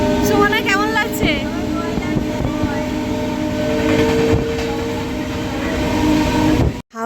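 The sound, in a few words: train ride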